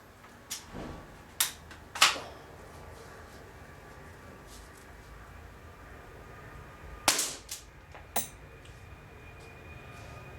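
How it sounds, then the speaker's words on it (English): Bison Russian spring-powered bolt-action airsoft sniper rifle fired outdoors, with a few sharp snapping shots spaced out, including a pair of cracks close together near the start and another pair later, over faint background hiss. "Bear in mind it's a spring action sniping sort of rifle, so let's pop the mag in and let's see what she can do."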